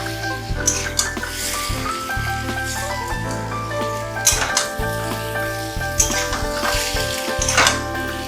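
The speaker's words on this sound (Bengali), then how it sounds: "আলুটা একটু ভালো করে কষিয়ে নিতে হবে।" Potatoes sauté in a pan for a curd-based aloo dum, a steady soft sizzle and crackle with occasional stirring bumps, under a constant tonal hum in the kitchen.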